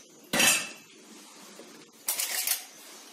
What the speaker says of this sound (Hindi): मैं हाफ स्पून इलायची पाउडर ले रही हूँ।